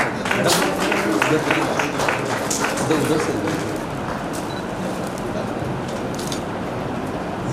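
Audience applause welcoming guests at a university foundation-day ceremony in Udaipur, a dense, steady clatter of many hands that carries loudly for a few seconds, then eases into a softer, continuing patter.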